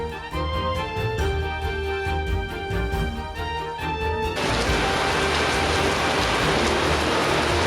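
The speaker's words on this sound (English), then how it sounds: "it's a rainy day again" Rain falls outside an off-grid home as a steady, dense hiss, starting under loud music with a regular beat and then heard alone, close and loud, for the rest of the clip.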